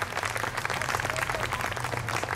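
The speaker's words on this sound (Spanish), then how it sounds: "Veamos ese aplauso al Señor." Church congregation applause during a Spanish-language Easter service, a steady, dense wash of clapping held at a moderate, somewhat distant level throughout.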